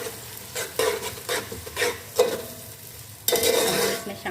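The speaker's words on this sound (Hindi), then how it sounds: "अब हम करेंगे अपनी प्याज को ब्राउन" Onions frying and browning in a pan for an egg and chickpea curry, a moderate sizzle broken by repeated scraping stirs of a spoon against the pan, ending in a louder burst of frying, close up.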